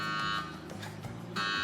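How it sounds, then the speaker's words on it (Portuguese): A kitchen oven timer alarm rings in steady tonal bursts at the start and again near the end, after bacon and cheese bread rolls finish baking, with faint background sound between. "Já posso tirar do forno, o alarme tocou"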